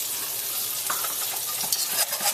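A spoon stirs thickening grits with heavy cream in a pot, steady scraping and soft bubbling sizzle, close and continuous with a few sharper clacks toward the end, no talking.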